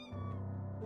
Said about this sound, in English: Oh, look at the kitty cat!